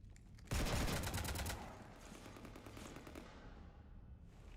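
Sudden loud volley of rapid automatic fire strikes a ship in Mass Effect, a dense rattling burst lasting about a second before fading into a lingering rumbling tail and low background noise.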